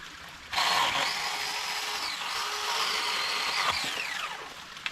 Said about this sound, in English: My little old trusty saw here.